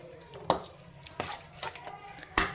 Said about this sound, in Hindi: पानी ऐड करके इसको मिक्स कर लें।